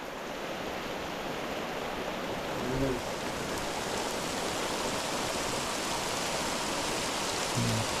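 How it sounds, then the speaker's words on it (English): Heavy rain with hail pours down in a dense, steady hiss, loud and continuous throughout, with a couple of brief low thumps breaking through. "it just started raining hard, but there's hail on the ground too."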